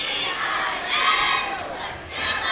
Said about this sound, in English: Boy, quite a crowd here tonight